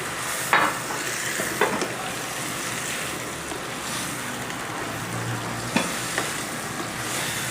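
Soaked and boiled chickpeas are stirred into a sizzling cooking pot, a steady frying hiss with a few sharp scrapes and knocks of the spoon, and no voices.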